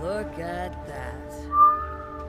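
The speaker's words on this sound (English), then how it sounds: "Whistle noises." A whistle sounds inside the Monster Hunter World video game, a short bright tone rising clearly over steady in-game ambience and a brief spoken line earlier.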